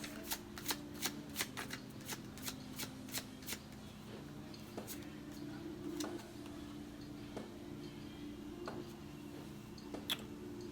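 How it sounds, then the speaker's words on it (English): Tarot cards shuffled for a card reading, giving a run of crisp riffling clicks and snaps in quick bursts, close and fairly quiet over a low steady background hum. "We'll draw a couple more cards and we're out of here."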